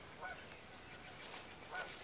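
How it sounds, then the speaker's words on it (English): Geese honk outdoors near a rocky fishing spot, two brief calls about a second and a half apart, faint and distant over quiet background noise. "These birds out here, I believe those are geese."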